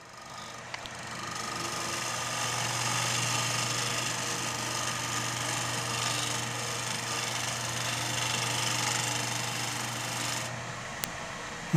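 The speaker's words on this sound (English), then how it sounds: "I'm going to sharpen a couple of gouges." A power sharpening grinder runs steadily while woodturning gouges are honed, a continuous motorized whine and hum with faint grinding scrape, near and alone, stopping abruptly at the end.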